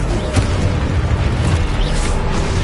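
Spell explosions from Hogwarts Legacy rumble as a loud, continuous booming blast, dense and close, with no clear gaps between impacts.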